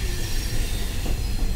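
A passenger train travels through the mountains of the Chornohora ridge. Its loud, steady rumble fills the whole stretch, and wheel squeal runs beneath it.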